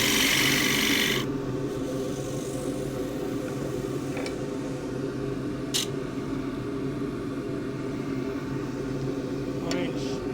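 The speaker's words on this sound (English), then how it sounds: "Scraper." A scraper cutting a Tasmanian blackwood bowl on a wood lathe, a steady close rasping hum throughout with a few faint clicks, and a voice speaking quietly over it.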